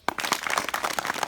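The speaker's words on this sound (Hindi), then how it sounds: "ताली बजाओ।" Schoolchildren in a village classroom clap their hands together, a fast run of sharp, close claps that continues steadily for about a second.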